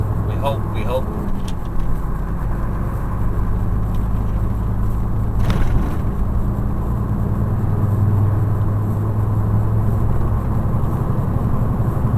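A truck pulls onto the road from Warwick services, its engine droning low and steady under constant road noise, with a brief rattle early on and muffled voices in the cab.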